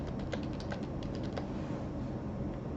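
Rapid, steady typing on a computer keyboard, close and clear, with a fast run of keystrokes and no voices.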